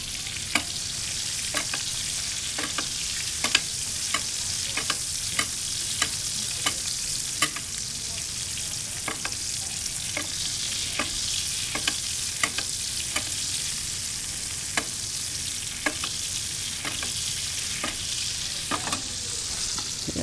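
Steak and garlic cloves searing in a hot pan, a steady hiss of frying fat with regular clinks and scrapes of a utensil stirring, close and moderately quiet, with no talking.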